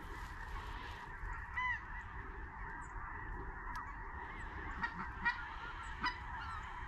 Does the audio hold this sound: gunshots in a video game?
no